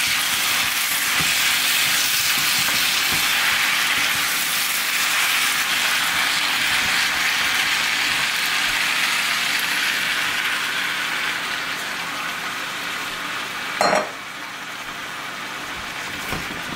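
Cabbage and shredded carrots frying in a pan, a steady broad hiss and sizzle holding throughout, easing slightly toward the end, with one brief clatter.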